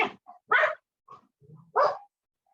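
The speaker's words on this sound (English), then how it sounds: "Sorry, my dogs are barking." Dogs bark indoors in short, sharp bursts, three or four clear barks with small yips and whimpers between them, close by with quiet gaps and no talk.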